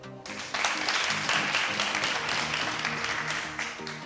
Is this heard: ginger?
no